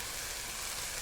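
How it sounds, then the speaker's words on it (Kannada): Green chillies fry in a pan with a steady, hissing sizzle. It is a faint, continuous sound that stays even over a brief moment, with no voices. "ಅದ್ರೊಳಗೆ ನೋಡ್ರಿ ಚೆಂದಾಗ ಫ್ರೈ ಆಗ್ಯದ್ರಿ."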